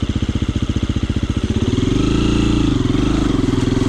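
An electric trials motorcycle motor chugs in steady, close pulses, then rises into a smoother, louder drone as it picks up speed.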